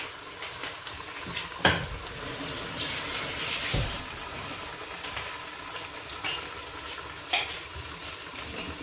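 Parippu vada, lentil fritters, deep frying in oil, giving a steady bubbling sizzle with a few sharp clinks and knocks of a utensil, close and moderately loud, with no talking.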